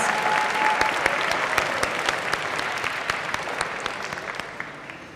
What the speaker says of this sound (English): Can we get one final round of applause for all the musical acts that won today